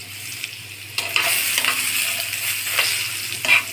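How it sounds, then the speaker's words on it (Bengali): Medium potato pieces fry in hot oil seasoned with turmeric powder and a pinch of salt, giving a close, steady sizzle broken by a few louder bursts of stirring and scraping, with no speech. "এখন আলুগুলি লাল লাল করে ভেজে নিব।"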